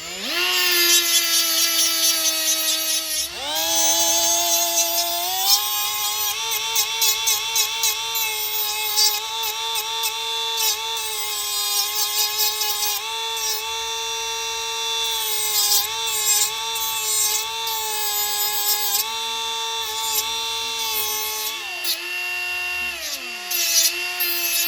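A grinding disc whines steadily against metal while tapering the points of a bat-shaped batarang throwing weapon, a loud continuous high-pitched tone with pitch dips as pressure shifts, running alone for the full length.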